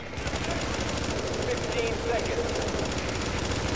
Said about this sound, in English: Am I shooting through the wood?